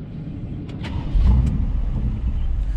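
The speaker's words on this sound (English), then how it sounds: "you will forget it once you hear that twin turbo V8 engine running" Close engine cranking and catching of a 2013 Mercedes G63 AMG twin-turbo V8, then settling into a deep low idle rumble with a few faint clicks.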